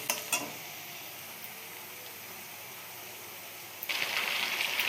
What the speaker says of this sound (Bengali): এই দেখো আমার পেঁয়াজটা ভাজা হয়ে গেছে।